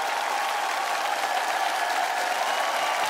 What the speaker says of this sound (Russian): Но вам аплодисменты, Георгий.